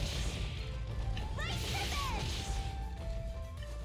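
A rock smashed apart in the video game Sakuna: Of Rice and Ruin, with a few sharp crashing hits and swishing strikes over a low, steady game backdrop, while a voice talks briefly.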